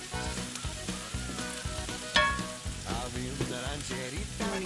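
Onions and poblano peppers sweat in a hot pan with a bright, continuous sizzle and crackle, punctuated by a louder spatter and some soft stirring, heard close up without speech.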